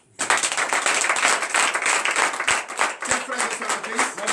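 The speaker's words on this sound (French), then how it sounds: "Je vous demande d'applaudir très fort." A church congregation at a Thursday morning prayer service in Benin bursts into vigorous clapping that starts abruptly after a brief pause and stays loud and continuous, with voices calling out beneath it.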